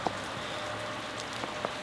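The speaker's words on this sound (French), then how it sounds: "Il pleut, du brouillard," Steady rain patters on surfaces in foggy mountain terrain near a ravine, a continuous even hiss with a few louder drops standing out.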